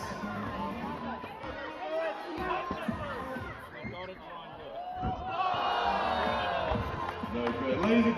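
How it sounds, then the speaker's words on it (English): A crowd at a Tauihi women's basketball semi-final between Northern Kahu and Mid-North Whai roars and cheers steadily, swelling louder toward the end, while an announcer talks over the noise. "Get nice and loud for Max, though."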